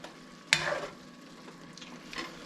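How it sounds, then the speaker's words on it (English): Pork stew meat with soy sauce is stirred in a hot pan, giving one sharp scrape and clatter followed by a soft ongoing sizzle with a couple of fainter scrapes near the end. "I just like to stir it around and whatnot quite a bit so that you don't end up with some meat that's just always sitting on top"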